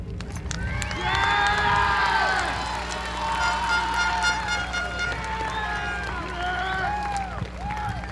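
A graduation audience at the Edcouch-Elsa ISD 2023 ceremony cheers loudly for the valedictorian, with sustained crowd noise, shouts and whistles rising and falling throughout.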